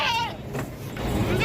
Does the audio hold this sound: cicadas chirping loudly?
no